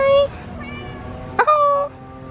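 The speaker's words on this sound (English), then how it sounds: "look, this cat is coming towards me" A cat meows once, close by, as it approaches and climbs into a 2017 Kia Niro hybrid SUV, with a person talking around the sound.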